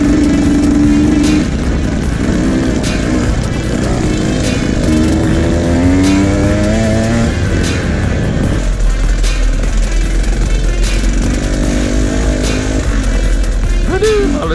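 Motorcycle riding on an Indonesian trail ride, the engine droning loud and close throughout with shifting revs and pitch changes, while voices talk over it.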